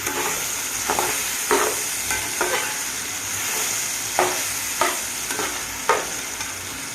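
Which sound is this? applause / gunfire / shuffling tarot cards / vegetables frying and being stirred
vegetables frying and being stirred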